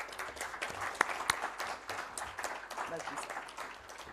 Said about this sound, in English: with a generous round of applause, let's welcome onto the dais Joint Secretary